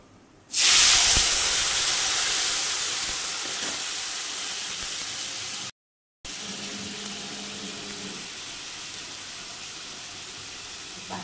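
Ground spices dropped into hot oil already fragrant with whole garam masala and two bay leaves burst into a loud, sudden hiss, then settle into a steady sizzle that gradually eases, with a short gap before the frying continues.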